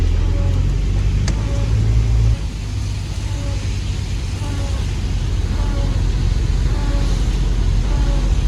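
Road traffic on the Himalayan Expressway: a loud, steady rumble of engines and tyres on the road, with a continuous low drone and passing vehicle noise throughout.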